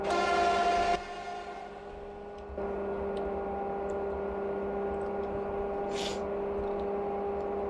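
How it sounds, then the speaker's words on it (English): In the Open Rails train simulator game, a locomotive horn that resembles a Shinkansen horn blasts loudly for about a second. A steady, humming tone then carries on under the continuous rumble of the train. "The horn sounds like a Shinkansen."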